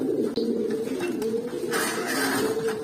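Pigeons coo nearby in low, throaty, rolling calls that run continuously, with a few faint higher chirps over them.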